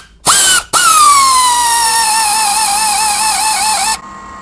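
Power tool fitted with a deep 13 mm socket removing bolts on a MINI Cooper R50/R53: a loud, close, high whine that starts briefly, cuts out, then revs again and runs steadily for about three seconds before stopping.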